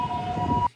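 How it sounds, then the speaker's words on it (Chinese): A brief ambulance siren tone holds steady under the rumble of a moving emergency vehicle, then cuts off. "救护车一路狂奔"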